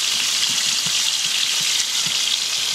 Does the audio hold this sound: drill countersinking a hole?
no